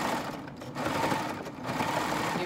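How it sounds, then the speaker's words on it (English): A Triumph overlock serger running a 4-thread overlock along cotton and vinyl fabric for a market bag, a steady close, loud, fast mechanical whir that holds for the whole stretch with slight swells. "I have my Triumph threaded, and I'm just gonna do a 4-thread overlock."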